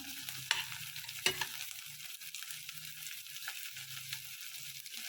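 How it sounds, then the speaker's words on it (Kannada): Onions fried with curry leaves in a pan for vangi bath gojju hiss in a steady, close sizzle, broken by two sharp clanks and soft stirring scrapes, with no talk. "ಈಗ ನೀರುಳ್ಳಿ ಹಾಕಿಕೊಂಡಿದ್ದೀವಿ ಅದು ಹಾಕಬೇಕು ಫ್ರೈ ಮಾಡೋಣ"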